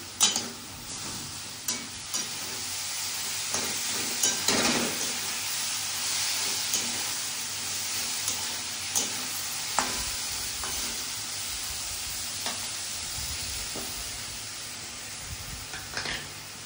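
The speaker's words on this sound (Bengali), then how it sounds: "একটু নেড়ে চেড়ে পোস্তটা দিয়ে দেবো" Chopped bottle gourd sizzles and hisses in a hot pan while a spoon stirs it, with scattered scraping knocks against the pan over a steady frying crackle, close and fairly loud.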